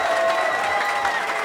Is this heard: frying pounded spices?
no